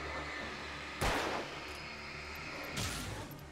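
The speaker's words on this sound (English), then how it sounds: "Now shoot this guy." Two loud gunshot bursts from the video game Alan Wake, one near the start and another later, each with a short ringing decay over a steady low background hum.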